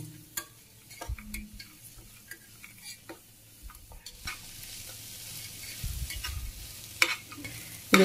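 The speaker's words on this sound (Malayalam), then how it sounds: "ഒന്ന് ചെറുതായിട്ട് വഴറ്റിയെടുക്കാം" Cashew pulao ingredients lightly sautéed in a pan, soft frying crackle broken by repeated spoon taps and scrapes against the metal, growing busier toward the end.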